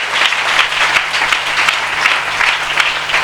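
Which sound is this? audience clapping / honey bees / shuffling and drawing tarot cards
audience clapping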